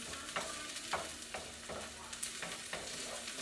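Onions and garlic sizzle steadily in a pan while a spoon stirs them in regular scrapes about every half second, close and moderately loud with no talking.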